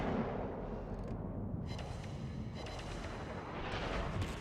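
Heavy battleship main guns of the West Virginia firing in World of Warships, a continuous deep rumbling roar of booming salvos with rolling echoes.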